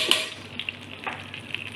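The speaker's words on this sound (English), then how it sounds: "Now once the oil is heated, add 1 teaspoon of mustard seeds" Mustard seeds sizzle and crackle in hot coconut oil in a pan, a steady close frying hiss with scattered sharp pops throughout, and no one speaks.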